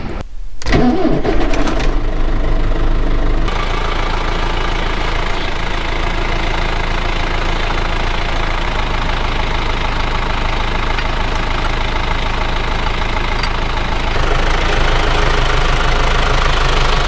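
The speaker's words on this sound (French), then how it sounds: "Donc je démarre le tracteur, je mets ça à chauffer parce qu'il fait froid" A tractor engine starts and then idles steadily on a cold morning, a loud continuous rumbling chug that holds the same even level throughout.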